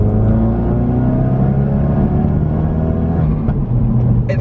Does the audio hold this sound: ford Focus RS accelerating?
yes